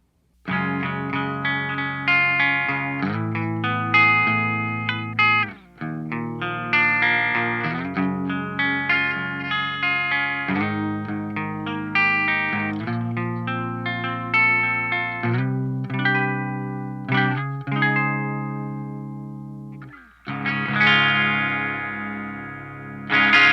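Electric guitar played through effects and two amps summed together, one sounding like a Vox, with sustained chords and melodic runs, a shimmering chorus-like tone and some distortion, loud and continuous with brief pauses.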